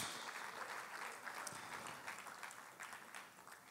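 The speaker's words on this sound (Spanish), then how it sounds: "¿por qué aplauden tanto aquí en la iglesia?" A church congregation claps together in a dense, sustained wash of applause that holds steady at a moderate level throughout.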